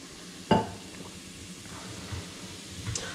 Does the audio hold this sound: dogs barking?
no